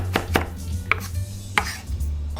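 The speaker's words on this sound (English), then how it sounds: "I got some raw garlic right here I just minced." A knife chops raw garlic on a cutting board in a home kitchen, giving a handful of sharp, uneven taps with pauses between them, close and clear against a low steady hum.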